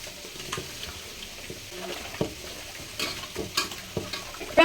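Meat marinade for kacchi biryani, with kewra water added, is worked together by hand, producing wet squelching and slapping bursts and scattered clicks, close and uneven, with no talking.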